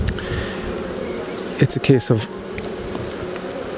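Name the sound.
honey bees buzzing in nuc hive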